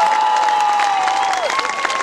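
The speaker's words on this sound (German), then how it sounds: "Ein Applaus bitte!" Applause and cheering from a crowd at a school leavers' prank-day event, broadband clapping filling the whole stretch with a steady whistle-like tone running through it.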